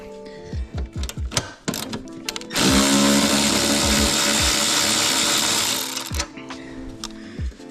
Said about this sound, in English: These electric ratchets are the bomb.